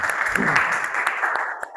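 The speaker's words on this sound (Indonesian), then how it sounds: "Tepuk tangan dulu untuk Brian." Classmates applaud a student named Brian in a lecture room: a short burst of scattered hand clapping, fairly close and moderately loud, tapering off within two seconds.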